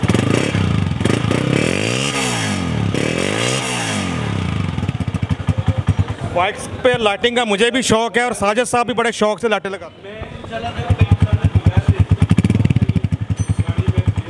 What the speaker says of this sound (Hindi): साउंड चेक करते हैं सबसे पहले 18 मॉडल होंडा 125 का।